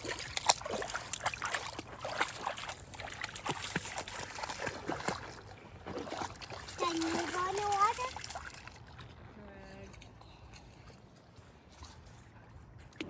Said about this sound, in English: I just put my feet in and I made sure to get my feet in the water up to where I was on this neoprene booty